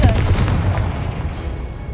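A Confringo spell explosion from Hogwarts Legacy lands as a loud, close boom at the start, and a dense rumbling blast decays over the remaining two seconds.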